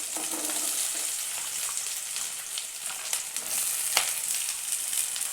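Onion frying in hot oil with cloves and cardamom for a small dried-fish gravy, a steady broadband sizzle throughout with faint stirring, close and moderately loud, no talking.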